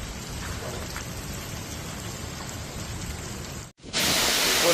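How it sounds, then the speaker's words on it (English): Heavy rain pours during a severe thunderstorm in the Ardèche region of France, a dense steady roar that drops out briefly near the end, then returns louder and closer. "The Ardèche region experienced a severe thunderstorm this afternoon, with heavy rain, strong lightning, strong winds"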